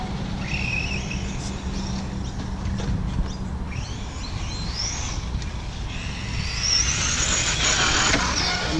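Electric motor of an RC car running, a continuous whine with shifting high-pitched tones over rough ground noise, growing a bit stronger near the end.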